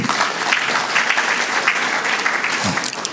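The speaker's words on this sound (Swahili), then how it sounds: "Tumpigie Bwana makofi." A church congregation applauding during a memorial tribute for a pastor, steady sustained clapping filling the space from start to finish, with no voices.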